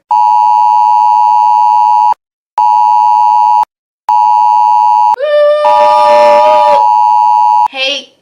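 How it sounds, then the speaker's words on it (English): An Amber Alert emergency tone blares from a phone in loud, repeated steady beeping bursts with short gaps, then breaks into a jumbled, warbling electronic burst near the end. "you hear Amber Alert."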